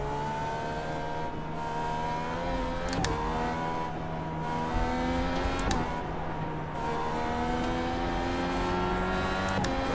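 Engine of a Dallara IR18 race car in the iRacing video game, a steady high-revving drone with harmonic whine that briefly breaks at gear shifts about every three seconds, heard alone and fairly close.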